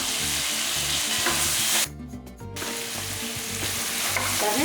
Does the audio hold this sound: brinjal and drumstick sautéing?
yes